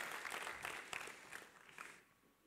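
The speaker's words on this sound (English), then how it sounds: "well, you can clap" A church congregation applauds, a moderately distant burst of clapping that holds steady for about two seconds and then fades to quiet.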